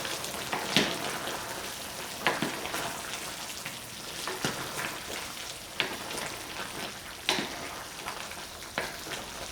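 A chicken and potato stew bubbles and sizzles in a pot while a utensil mixes it, with soft crackling and several sharp scraping knocks at irregular intervals. The sound is close, with no talk.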